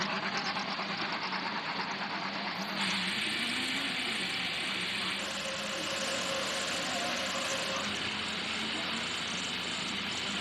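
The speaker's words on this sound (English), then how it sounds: "Drivers, start your engines." IndyCar race car engines fire up and idle together at a racetrack, a dense, steady mechanical drone that rises slightly a few seconds in and holds loud, with faint crowd and announcer voices underneath.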